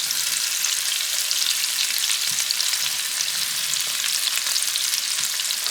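Onion and tomato frying in oil with a steady, dense sizzle that holds evenly throughout, close and fairly loud, with a few faint stirring touches underneath.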